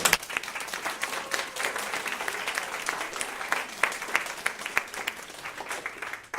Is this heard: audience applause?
yes